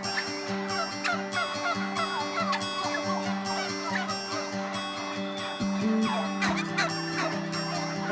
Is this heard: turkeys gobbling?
yes